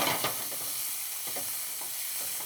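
Onions fry in a pan with red pepper flakes while a spoon stirs them, giving a steady faint sizzle broken by a few soft scraping strokes.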